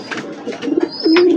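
A breeding pigeon with clipped feathers in a loft coos softly and close by in short bubbling phrases, swelling into a fuller, sustained coo at the end.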